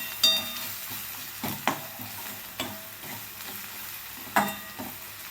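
Whole masoor lentils with homemade red chilli powder are stirred in a sizzling pan, with a spoon scraping in several distinct strokes over a soft, steady frying hiss.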